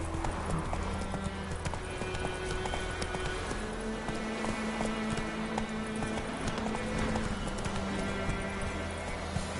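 Roach the horse from The Witcher 3 gallops in steady clip-clop hoofbeats, joined by a brief whinny, over a continuous ambient wash of game music and outdoor background.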